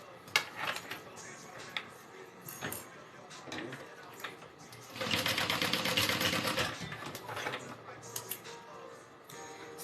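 A sewing machine stitches a fold of fabric on a backpack, a dense burst of mechanical whirring midway through, with light clicks and handling of the material around it and a voice heard at moments.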